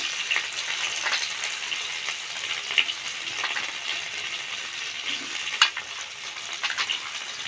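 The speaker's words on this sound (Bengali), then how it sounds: "এই যে মশলাটা ভাজা হয়ে এসছে, এই যে আলুগুলো দিয়ে দিচ্ছি" Fried potatoes go into a pan of frying spices while cooking papaya curry, producing a steady close sizzle with clinks and scraping of stirring and a few sharper pops, and no voices heard.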